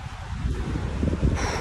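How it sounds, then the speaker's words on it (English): Outdoor gust of wind buffeting the microphone, a steady low rumbling roar with a rushing hiss that swells near the end, close and moderately loud, no talk. "Oh man, this is a nice gust."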